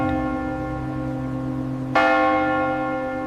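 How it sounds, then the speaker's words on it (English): Church bells ringing, a sustained resonant bell tone humming before a fresh loud strike lands midway and rings out with shimmering overtones. "the bells rang."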